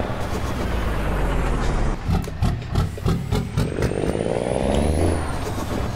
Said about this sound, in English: This is a Cummins N14 sound from Steam Workshop.